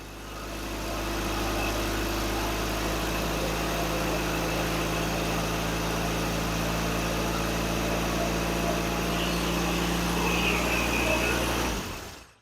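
A Subaru Bugeye car engine idles steadily right after starting, loud and close, a constant even drone holding until it cuts off at the end.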